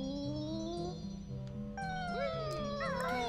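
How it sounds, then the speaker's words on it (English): Wavering, pitch-bending cat-like meow cries from the Banjo-Kazooie video game, sliding up and down over steady stepping game music, with no talk. "It sounds like a cat meowing in pain."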